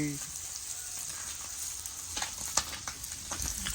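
Fish fries in a pan, a close, steady crackling sizzle with sharper pops and spatula scrapes growing busier toward the end, with no talking.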